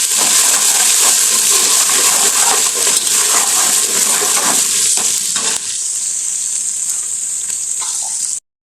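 Onions, ginger and garlic fry in a pan, with a loud, steady sizzle and crackle running close throughout and a few stirring scrapes before it cuts off abruptly.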